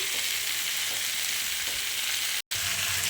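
Curry sizzling and frying in a pan just after garam masala powder is stirred in, a steady close hiss with a brief dropout near the end.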